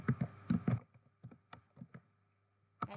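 Rapid clusters of keystrokes on a computer keyboard, typing a short blog title in quick bursts with brief pauses between, close and crisp in an otherwise quiet room.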